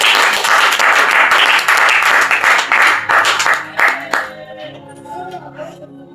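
A church congregation at a thanksgiving service claps loudly and densely for about four seconds, then the applause thins and fades as sustained musical tones carry on alone.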